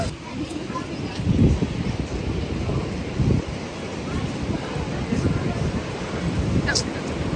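Sea waves on Yarada beach make a constant broad roar with gusting wind buffeting the microphone, and voices talk faintly underneath.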